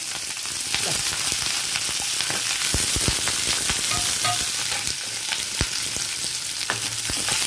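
Sliced onion and cut capsicum sizzle steadily in hot ghee, with a constant close frying hiss broken by occasional stirring scrapes and pops throughout.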